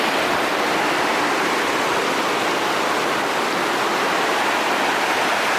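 Benta River Falls in Westmoreland pours in a steady, loud, close rush of falling river water, a dense unbroken roar with no voices.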